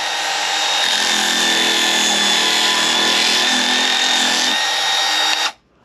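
A Craftsman V20 cordless bandfile sands at high speed with a loud, steady, high-pitched motor whine and grinding that holds for about five seconds before cutting off abruptly.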